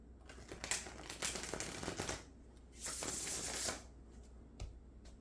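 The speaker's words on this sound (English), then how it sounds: "I like the way that this deck shuffles." Playing cards riffle quickly in two rapid bursts with a short pause between, crisp and close, followed by a soft tap.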